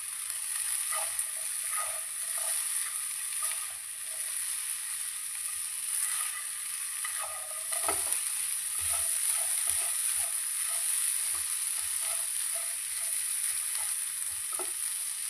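Leafy greens cooking in a pan, a continuous high sizzling hiss with soft irregular stirring clicks and clatters throughout.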